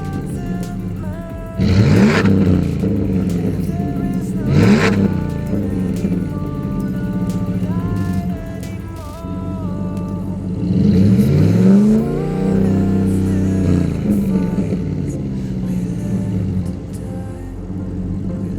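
Lifted 2020 Ram Rebel Hemi V8 fitted with an MBRP Pro Series exhaust and Volant cold air intake, revved loudly nearby in several sharp bursts and one longer pull, each settling back to a steady, throaty idle, with no voices.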